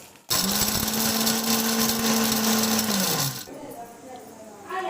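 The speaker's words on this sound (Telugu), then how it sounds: "ఇందాక వేయించినది ఇలా పొడుము చేసుకోవాలి మిక్సీలో వేసి" An electric mixer grinder powders roasted coriander seeds and cumin, a loud steady motor whine with a gritty rattle that runs about three seconds and then winds down.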